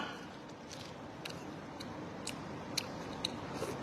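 Someone chewing Thai tea bingsu with crunchy shaved ice, giving soft, irregular crunches and sharper bites close to the mic over a low steady background hiss.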